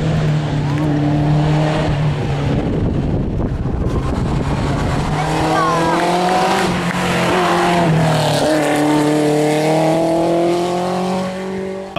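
A Renault Megane rally car climbs a hill-climb course, its engine loud and close with rising revs and gear changes, while spectators talk excitedly over the roar throughout.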